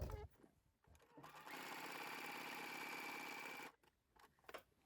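Sewing machine running a continuous zigzag stitch along the seam allowance of cord fabric, a steady close mechanical whir of about two and a half seconds, with brief handling noises before and after.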